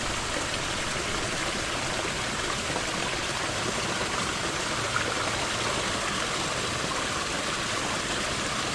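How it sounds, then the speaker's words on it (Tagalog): A flowing river stream rushes steadily and continuously, a close, even broadband wash of water with no talk over it. "Ganda ilog."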